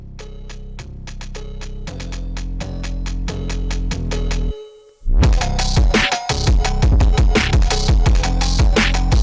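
Phonk beat with automated tempo, punchy drum hits and heavy bass that speed up steadily, cut out briefly, then return loud and dense, with no voices.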